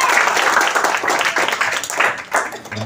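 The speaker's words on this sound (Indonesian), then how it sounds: "tepuk tangan buat beliau" Applause from the audience at an Indonesian break-fast gathering and victory thanksgiving event, welcoming an honoured guest; a dense, steady wash of clapping with voices mixed in throughout.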